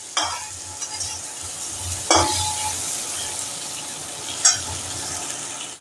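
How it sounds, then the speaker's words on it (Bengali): Pumpkin curry fries in a pan, a steady sizzle under repeated scraping strokes of a spoon stirring, with a few sharper clatters against the pan; close and continuous. "এবার আমাদের তরকারিটা অনেকটাই ভাজা ভাজা হয়ে এসছে"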